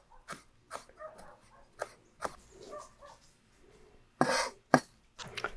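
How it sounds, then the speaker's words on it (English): A knife on a cutting board chops ghost peppers very finely, heard as sharp, irregular taps at close range, a few louder knocks near the end, with a faint dog whimper in the background. "I'm cutting these very, very tiny indeed."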